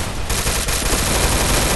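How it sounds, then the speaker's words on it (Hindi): Gunfire during a guild war battle in a video game, a dense, loud, continuous barrage of rapid shots that runs through the whole short stretch. "फायरिंग करते रहो कंटिन्यूस"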